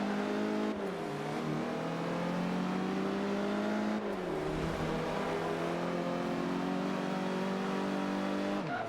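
Race car engine in Forza Motorsport 5 revving hard under throttle, a loud continuous harmonic whine that dips near one second and again around four seconds before climbing back, with faint tyre squeal mixed in.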